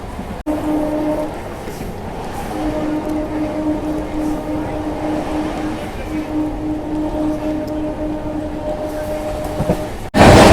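A high-speed Indian local train runs with a steady rumbling roar and a sustained droning hum, then an abrupt loud rush near the end, with little talk.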